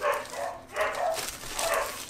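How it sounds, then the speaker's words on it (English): Several dogs bark in the background indoors, heard as three muffled bursts of barking spaced roughly evenly apart, moderately loud but somewhat distant. "You can hear my dogs in the back there."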